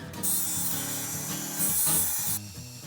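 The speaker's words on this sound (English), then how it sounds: "we're going to take and sand off these rough edges and make this into a smooth piece." Cut bezel material for handmade earrings being sanded smooth along its rough edges: a continuous close scraping rasp, steady with slight surges, over faint background music.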